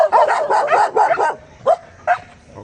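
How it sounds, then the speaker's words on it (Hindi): Several dogs bark at a newcomer dog that has joined their pack: a quick run of loud, close yips and barks, then two separate sharp barks after a short pause. "ये देखो ये इस गैंग के ऊपर भौंक रहे हैं।"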